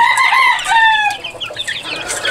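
Young pullets cluck and chirp close by in a steady stream of bright, overlapping calls, with soft background noise and no talking.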